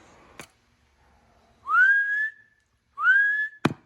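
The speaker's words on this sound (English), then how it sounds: "So let's do a little whistle." A person whistles into a handheld microphone on a high-power radio setup: two rising, held whistle notes, clear and close, framed by sharp clicks at the start and end.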